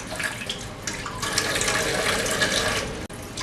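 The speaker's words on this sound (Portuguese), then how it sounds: "Lavando direitinho, não precisa abrir muito a torneira." Tap water running steadily from a kitchen faucet while collard greens are rinsed under it, a continuous close splashing hiss with no talk.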